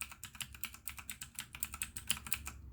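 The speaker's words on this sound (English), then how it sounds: "The Otemu blue switches are quite clicky" Rapid, clicky keystrokes on a Redragon K585 one-handed keyboard with Otemu blue switches, a steady run of sharp near clicks with a tactile snap, alone without talk.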